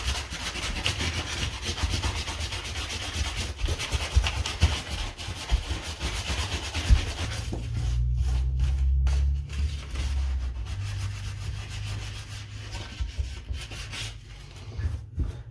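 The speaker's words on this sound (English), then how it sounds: "Next step is I'm going to hit this with some sandpaper." Sandpaper scuffs a metal bathtub drain by hand in steady back-and-forth strokes, making a close, gritty rubbing. The strokes turn slower and more broken in the second half, with no voices.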